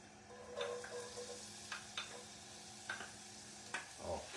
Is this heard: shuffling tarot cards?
no